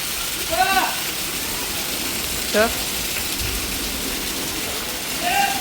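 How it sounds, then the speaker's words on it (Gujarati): Heavy rain falls steadily in a continuous broadband hiss, with voices talking briefly over it at a few points. "તો કેવો વરસાદ આવે આમ જો આવા વરસાદ આવે ને વીજળી જો"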